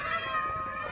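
A single short, high cat meow in Minecraft with a tonal, whiny quality, faint and brief, with a little background noise.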